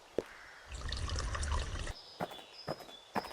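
Water filling in the horror farm game Pumpkin Panic: a rushing pour of about a second, then a few faint clicks and footstep-like taps.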